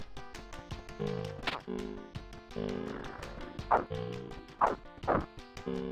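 Several sharp, cartoonish dog barks from the video game Death Road to Canada pop out over its looping electronic soundtrack, irregularly spaced and fairly loud.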